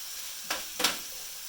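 Hamburger Helper sizzles softly in a pan under a steady low hiss, with two brief scraping stirs of a utensil standing out close by.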